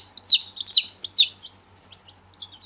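Young chicks about eight days after hatching chirp close by in a brooder, a series of high, rising peeps in quick bursts with softer scattered cheeps and faint background hum.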